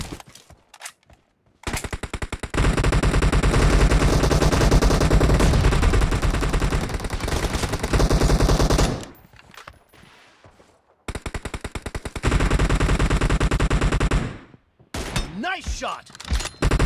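Sustained video-game rifle fire from an M24 and an M416, loud bursts of rapid shots in two long stretches with a brief pause between, some faint voice underneath.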